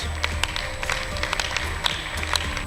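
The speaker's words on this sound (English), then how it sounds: "A round of applause, please." Scattered, fairly faint hand clapping from an audience at a school debate prize-giving, sparse and uneven rather than a full roar, with a low hum beneath.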